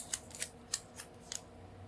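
Several crisp snips of scissors cutting, spaced irregularly over a quiet room background, close and fairly soft.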